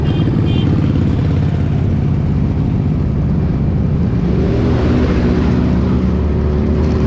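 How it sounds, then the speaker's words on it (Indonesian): Heavy traffic of many motorcycles from a Sunday morning ride heading home together, a continuous droning wash of engines rumbling past at close range with no pauses. "Wih rame banget motor-motor itu,"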